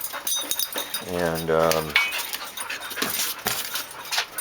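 Airedale dog whimpering, a short rising whine in the middle of the clip, with a person talking around it.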